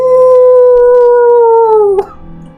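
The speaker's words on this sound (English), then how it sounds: "And occasionally you just hear a wolf howl." A single long wolf howl holds a steady pitch, then bends downward and breaks off, loud and close, with a faint hum of background sound lingering after it.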